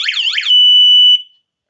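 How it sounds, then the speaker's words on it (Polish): A Tuya Smart SR5 alarm siren wails in fast sweeping electronic tones, then holds a piercing steady beep before cutting off abruptly into silence. "Naruszona zostaje strefa, alarm się załącza"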